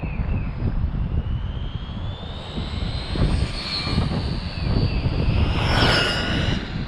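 A Wltoys 124019 RC car on a 3S battery screams at full throttle, a high whining motor that rises and falls in pitch as it speeds past, steady and fairly loud outdoors.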